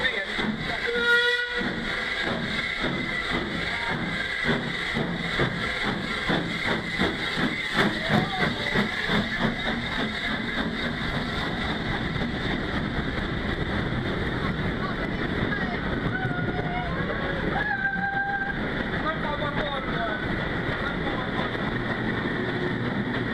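A vintage steam locomotive on the early Metropolitan Railway underground line, hauling wooden carriages, chuffs and hisses steadily, then sounds a short high steam whistle near the end.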